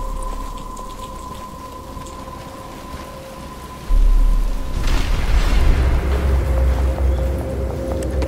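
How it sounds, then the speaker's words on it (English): Steady rain pours throughout a Batman video game scene; a loud thunder rumble breaks in about halfway and the downpour swells afterward, with a low musical drone underneath. "But it's starting to rain."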